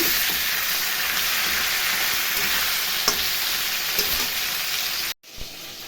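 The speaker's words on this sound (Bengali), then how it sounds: "ভালো করে ধুয়ে নুন হলুদ মাখিয়ে ভেজে নিচ্ছি কড়া কড়া করে বেশ ভালো করে ভেজে নেব" Fish heads rubbed with salt and turmeric frying crisp in hot oil, making a loud, continuous close sizzle with a couple of faint stirring clicks before it cuts off abruptly near the end.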